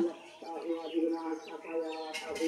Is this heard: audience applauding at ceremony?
no